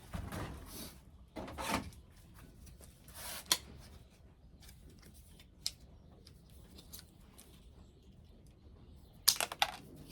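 Scissors snip a recycled plastic plant tag for winter sowing, giving a few sparse, quiet clicks and cuts with soft handling noises between them and a sharp snip near the end.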